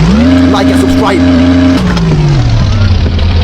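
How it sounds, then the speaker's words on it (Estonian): A car drifts past a tractor with its engine revving high and then winding down, loud and close, tyre noise mixed in and voices shouting over it. "mingi pätid ja kaabakad tõmbavad siin mingi autoga drifti ja rammivad mu traktori"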